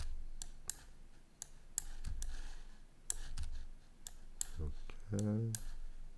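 Spacebar and key clicks on a computer keyboard while working in Illustrator, scattered sharp clicks at irregular intervals under someone speaking Korean over a low background hum.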